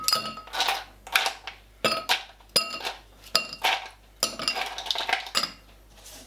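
Ice cubes clattering into a glass cocktail mixing glass at a gin distillery bar, a series of sharp bright clinks and rattles in uneven bursts, close and crisp with no talk.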